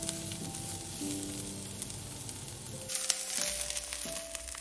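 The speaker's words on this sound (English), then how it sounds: "Then add the onion and the white parts of the green onions. Stir fry for about 1 minute," Onion and the white parts of green onions stir-frying in oil for a beef and mushroom stir fry, a steady close sizzle with occasional spatula scrapes, no voices.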